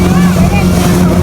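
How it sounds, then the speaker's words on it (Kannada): A motor boat engine runs at sea off Murudeshwar beach, a loud, steady low droning hum heard up close and continuous throughout. "ಈಗ ಜಸ್ಟ್ ನಮ್ಮ ಬೋಟ್ ಸ್ಟಾರ್ಟ್ ಐತಿ."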